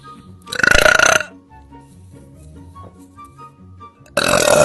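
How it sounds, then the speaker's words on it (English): A girl gives two loud, close burps after drinking Orange Crush soda, one long and one cut off at the end, with quiet pauses between them. "I just want to burp."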